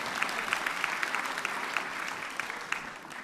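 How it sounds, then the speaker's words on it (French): Studio audience applause on a French TV game show after a correct answer, a steady, moderately loud wash of clapping lasting a few seconds. "C'est la bonne réponse, on l'applaudit bien fort."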